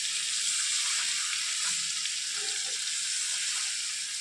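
Hog plums (amra) cooking in a pan for pickle are stirred gently, giving a constant bright hiss of frying with faint soft spoon movements underneath, steady and close with no voices.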